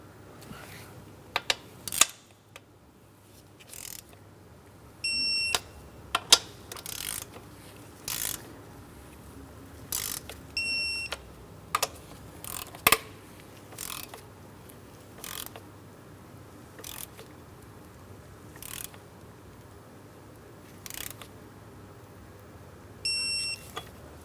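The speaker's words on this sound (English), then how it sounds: "Let's go ahead and torque them in that same crisscross manner." A hand ratchet clicks in short, scattered bursts while torquing the ignition coil bolts on a 3.6L V6 Cadillac CTS, close and fairly quiet, with pauses between pulls.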